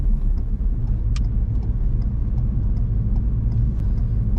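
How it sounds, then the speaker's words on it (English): Car engine held at a steady low rumble while braking and downshifting into second gear with a heel-and-toe rev match, a continuous mid-level drone with no distinct revving peak. "We start braking, select second gear, increase engine speed, and release the clutch."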